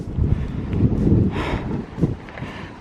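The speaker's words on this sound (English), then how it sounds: "It's a bit windy" Wind buffets the microphone at a coastal viewpoint, coming in loud, uneven gusts that rumble close throughout.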